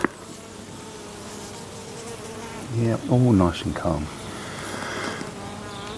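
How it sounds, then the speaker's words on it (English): A dense, steady buzz of a swarm of honey bees hums throughout, close by, while someone speaks briefly midway. "his bees swarm every year"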